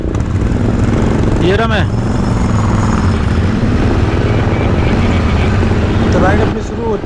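Honda H'ness motorcycle engine rumbling steadily through a morning city ride, a continuous low drone with wind noise, while a rider talks briefly over it.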